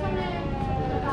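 A ferry launch horn sounds at Aricha ghat as one steady, loud, sustained tone with a rich, layered harmonic quality, lasting about a second amid the surrounding bustle of the crowded riverside terminal.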